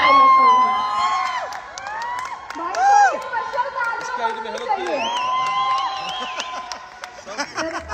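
An audience at a live stage event in Lucknow applauds and cheers, crowd noise and whoops running throughout beneath a loud, tonal voice over a microphone.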